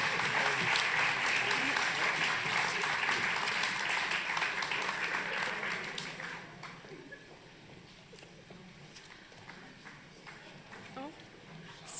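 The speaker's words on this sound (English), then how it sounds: "Still going with the clap there" A crowd applauds at a university teaching awards ceremony, with loud, dense clapping for about six seconds that then thins out to scattered claps and quiet room noise.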